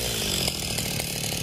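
A chainsaw cuts through a heavy rain tree (cây còng) branch, its engine droning steadily and loudly without a break, close by and alone with no voices.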